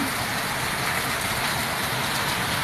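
Heavy rain falls steadily outdoors, a dense, even hiss of downpour with no pauses and no voices over it.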